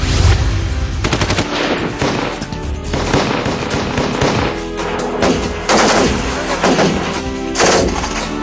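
Rapid bursts of machine gun fire crackle in quick repeated volleys, loud and close, with brief gaps between strings of shots, during cross-border ceasefire-violation firing on border posts.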